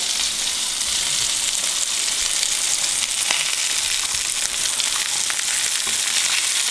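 French toast flipped in a hot pan fries with a loud, continuous, close sizzle and a few faint spatula ticks, with no talking.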